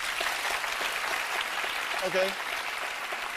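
Studio audience applause on a talk show, a dense steady wash of clapping from many people, with a brief voice heard over it.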